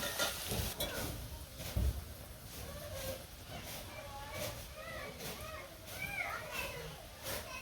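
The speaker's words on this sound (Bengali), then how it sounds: "এখন তালের বড়া ভাজম" Palm fritters fry in oil in a village kitchen, a soft, steady sizzle with occasional stirring, heard faintly beneath background voices and children in the distance.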